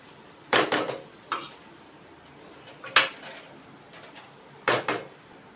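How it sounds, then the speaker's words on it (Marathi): A spatula clatters against a pan in a few short bursts as phodshi, a wild Konkan monsoon green, is sautéed with onion over a low flame, with a faint sizzle between strokes. "स्लो गॅस ठेवला आहे मी कांद्यावर चांगली परतून घेऊया आधी भाजी व्यवस्थित"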